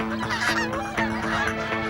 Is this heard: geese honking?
yes